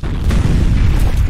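Grenade blast in a multiplayer first-person shooter, a loud sustained rumbling boom filling the whole moment with no talking.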